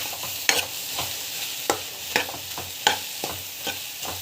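Masala sautéing in a pan with steady sizzling, cut by sharp spatula scrapes that repeat roughly every half second to second, close and alone with no voices.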